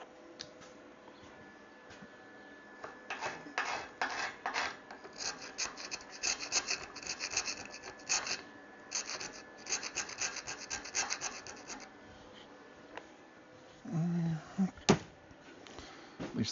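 Rust being scraped from a truck's metal body with sandpaper or a wire brush, a run of rough rasping strokes in uneven bursts, close by with short pauses between passes.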